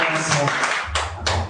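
Church congregation clapping during a Spanish-language worship service, a few distinct loud claps in an uneven rhythm over a short stretch, close by, with voices heard alongside.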